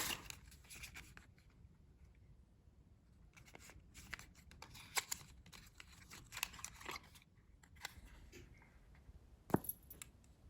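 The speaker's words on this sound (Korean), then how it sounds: "먼저 립스틱 언박싱 해볼게요." A Gucci lipstick package is unboxed with a series of quiet, close crinkles, taps and tearing rustles of paper and packaging in irregular bursts, heard alone without talk.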